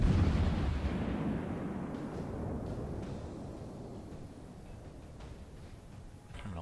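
Warship guns firing in World of Warships: one deep, rumbling boom at the start that rolls away into a long, fading low-end echo over several seconds.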